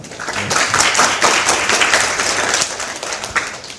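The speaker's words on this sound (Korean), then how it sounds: "박수를 맞이해 주십시오." Audience at a social economy symposium applauds to welcome a speaker, a full round of clapping from a seated crowd that stays fairly steady and then eases off slightly.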